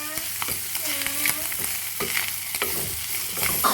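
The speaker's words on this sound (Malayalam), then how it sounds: "ഇനി നല്ലപോലെ ഒന്ന് ഇളക്കി കഴിയുമ്പോൾ നമുക്ക് ഫ്ലെയിം ഓഫ് ചെയ്യാം." Chicken masala with crushed black pepper is stirred in a pan, with a spatula scraping in quick strokes over a light sizzle, close and without voices.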